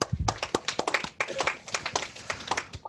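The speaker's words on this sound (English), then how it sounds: "let's give that a huge round of applause" Scattered applause from a small audience at a meeting session, with irregular individual claps spread across a few seconds and no single unified burst, fairly close and moderately loud.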